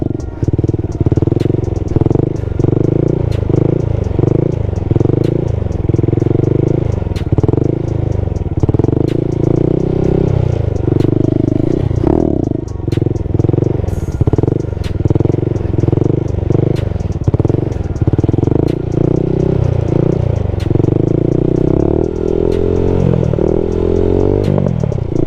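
Stunt Honda Grom motorcycle held in a wheelie, its small engine droning loud and close with steady throttle swells and wavering pitch for the whole stretch, with faint clatter and no talk.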